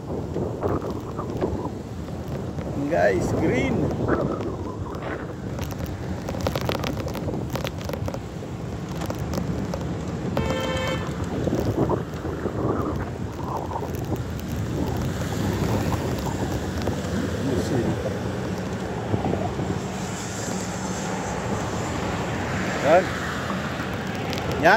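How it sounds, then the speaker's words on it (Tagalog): Cool wind gusting steadily across an open rural spot in Langawan, Santa Maria, Ilocos, with broadband rushing and mic buffeting throughout, while people talk over it. "Malamig ang simoy ng hangin."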